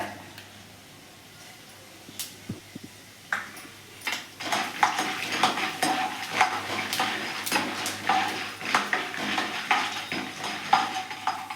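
Mustard seeds and cumin frying in hot oil for a bitter gourd fry, a steady crackling sizzle that builds after a quiet start, with scattered pops and clinks of a spoon against the pan, no talking.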